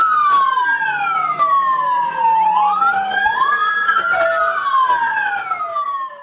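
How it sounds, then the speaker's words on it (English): A police car siren wails loudly and without a break during a dashcam-filmed pursuit, rising and falling in long sweeping cycles right up close. "The police activated their sirens in an attempt to stop the vehicle"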